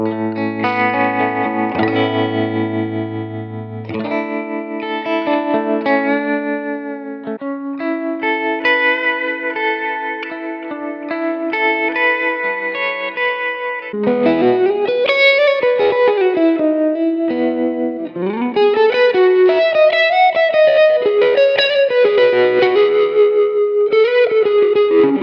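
Electric guitar through a Line 6 Pod Go amp modeler with a tremolo effect, playing chords and melodic lines, the tone pulsing with a steady wavering tremolo, loud and reverberant throughout.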